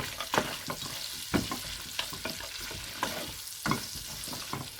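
Cashew nuts and whole spices frying in melting butter in a pan, a gentle sizzle punctuated by regular spatula scrapes and knocks roughly every second, close and moderately quiet.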